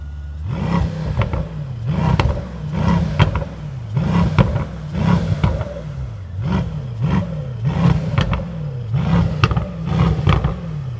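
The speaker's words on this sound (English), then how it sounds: "We have the nice V8 growl. We have the pops and bangs" A Brabus Rocket's 1000 HP V8 engine with a modified exhaust revs repeatedly in loud, rising and falling bursts, its deep exhaust growl punctuated by crackling pops between revs, close by.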